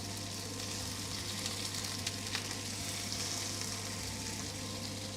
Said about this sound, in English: Sear the meat.